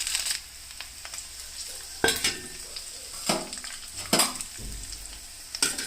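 Chana dal fried deep red in oil, then mustard seeds tossed in for tempering tamarind pulihora: a steady close sizzle broken by several sharp crackling, popping bursts as the pan is stirred.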